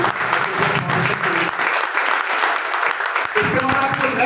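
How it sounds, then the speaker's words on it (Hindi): Loud, dense audience applause at a company gathering, sustained clapping from a large crowd with scattered voices and a few whistles underneath. "तो एक बार जोरदार तालियां होनी चाहिए हमारी संस्था के लिए।"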